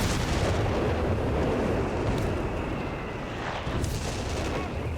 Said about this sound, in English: they get more artillery called in here